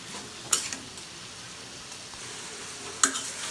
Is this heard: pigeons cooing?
no